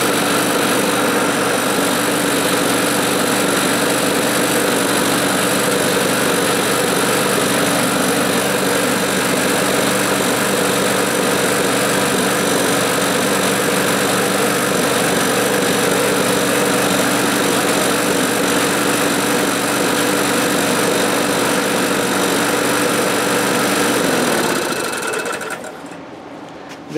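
A well-worn Craftsman walk-behind lawn mower with a new blade and spark plug runs steadily and loudly up close, a constant buzzing engine drone that cuts off near the end.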